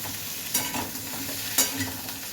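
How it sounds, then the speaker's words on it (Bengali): Ridge gourd and potato curry sizzles softly in a pan while a spoon stirs it, with two distinct scraping strokes over a constant frying hiss; no talking. "এবার ঝিঙেটাও দিয়ে দেবো"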